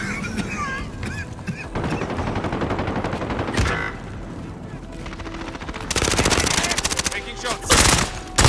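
An MP5 submachine gun fires in a video game, with loud, close bursts of rapid automatic shots that grow denser and sharper toward the end, and brief voice sounds early on.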